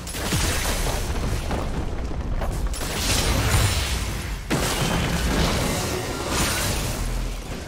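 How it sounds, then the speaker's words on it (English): A turret in League of Legends collapses in a booming, crashing explosion that fills the mix loudly and continuously, layered with game effects and no speech. "Red team's turret has been destroyed."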